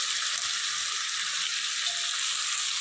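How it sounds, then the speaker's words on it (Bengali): Ground onion and garlic paste hits hot oil in a frying pan, producing a loud, continuous hissing sizzle close up with no talking. "এখন পেঁয়াজ আর রসুনটা বেটে রেখেছি, গ্রাইন্ড করে রেখেছি, দিয়ে দিচ্ছি।"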